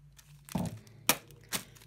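A hammer strikes a hard-boiled egg inside a plastic bag three times, each blow a close crunchy crack with a brief crinkle of plastic between hits.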